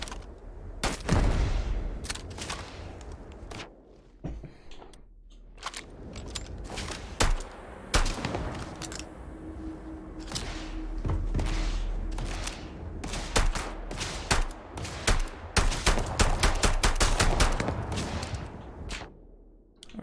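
Rapid bursts of gunfire from an unusual weapon in the space game Starfield, sharp cracks firing in clusters and volleys throughout, loud and close with a few short pauses between strings of shots.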